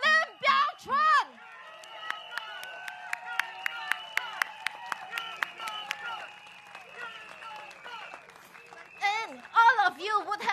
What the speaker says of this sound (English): Please, I want a bigger round of applause for Mr. Lim Biao Chuan.